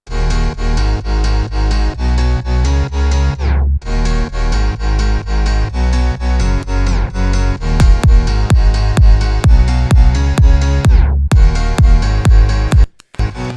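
Electronic track section built from an M1 piano, a Serum bass and compression, loud and dense with steady pulsing chords over heavy low end, a sweeping drop near four seconds and another near eleven, ending on a brief cut.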